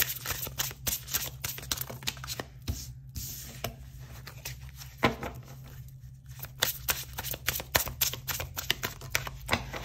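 Tarot cards being shuffled in the hands to draw a card, a run of soft riffling slaps and crisp flicks repeating unevenly throughout, close and fairly quiet over a low steady hum, with no talking.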